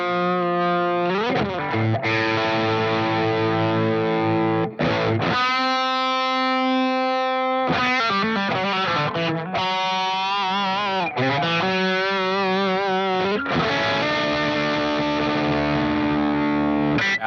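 An electric guitar runs through a Walrus Audio pedal with the gain maxed out, giving a thick, breaking-up distorted tone with bent notes, sustained chords and brief pauses, close and loud.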